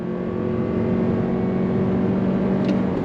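A 2022 Toyota RAV4 Prime SUV accelerating on throttle from about 30 miles an hour: a steady, muffled drivetrain hum and road roar heard from inside the cabin, smooth and continuous without any shift breaks.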